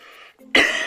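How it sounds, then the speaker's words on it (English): A single harsh cough, close and loud, preceded by a brief quieter throaty sound. "I just got a nasty cough and flu thing going on"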